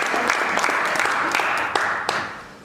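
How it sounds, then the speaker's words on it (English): Audience clapping for a panel at a discussion event, a moderate burst of applause with a few distinct claps standing out, fading toward the end. "you can give them a round of applause if you'd like"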